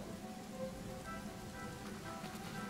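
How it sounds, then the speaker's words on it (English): Steady rain from a water spell in the video game Divinity: Original Sin falls as an even, soft hiss of droplets, faint and continuous, with no voices over it. "And I call upon the rain eventually."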